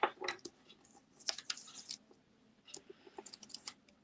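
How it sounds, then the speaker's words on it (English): A stencil mask is peeled off paper in a quiet craft setting, making soft sticky crackles and clicks in short uneven bursts with pauses between them. "So I'm just going to peel that mask off."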